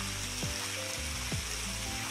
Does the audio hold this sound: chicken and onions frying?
yes